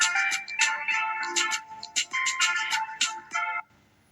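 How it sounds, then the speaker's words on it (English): A song set as a ringtone plays as a bright melodic tune from an Android phone. The notes run steadily, then stop abruptly, with no voices. "So now this is the ringtone."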